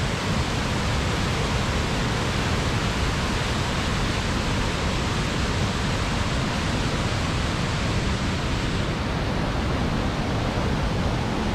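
Reekie Linn waterfall on the River Isla in Scotland roars as a loud, steady broadband rush of falling water, constant and unbroken throughout with no voices.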